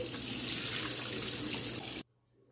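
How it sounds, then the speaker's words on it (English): Cold tap water runs steadily over salt mackerel in a kitchen sink, a close continuous splashing hiss that cuts off abruptly near the end, leaving near silence. "run it underneath some cold water and flake it"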